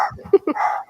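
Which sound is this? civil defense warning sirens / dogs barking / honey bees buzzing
dogs barking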